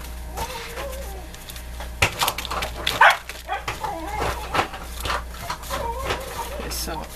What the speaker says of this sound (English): what you're hearing in the background is my dogs are getting fed, so they're excited